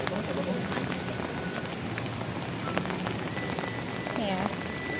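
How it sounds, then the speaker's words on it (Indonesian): Rain pattering steadily on an umbrella at a hot spring area in Ciater, Subang, West Java, a close, dense drumming that continues throughout under faint background sounds. "Karena hujan jadi saya pakai payung."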